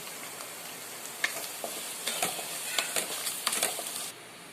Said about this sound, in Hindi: अभी हम इसमें अदरक लहसुन पेस्ट डाल के 1-2 मिनट भुनेंगे।